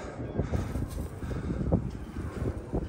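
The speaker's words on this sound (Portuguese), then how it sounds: "Tá muito vento." Strong wind buffeting a microphone on a rooftop, a close, rumbling roar with irregular gusts and thumps rising and falling throughout.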